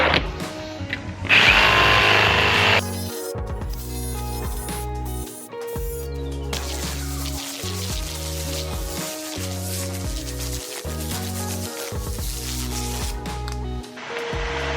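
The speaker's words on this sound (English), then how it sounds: "I'm gonna cut the door panel with a jigsaw." A jigsaw cuts through a Land Cruiser 70 Series door panel, making a loud buzzing, rattling drone that runs through most of the stretch, with brief pauses and an opening burst of harsher noise.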